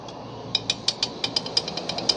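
A bare metal motorcycle chain with no rubber slider rattles against metal in rapid metallic clicks, a dozen or so sharp ticks in quick uneven rhythm, close and fairly loud.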